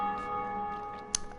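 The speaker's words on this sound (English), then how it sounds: "Ah, yes, the second Bell of Awakening, down here. We finally heard a ringing." Ringing of the Bell of Awakening in Dark Souls Remastered: a sustained, resonant tone with layered steady partials, fairly faint, then a brief brighter metallic strike near the end that decays quickly.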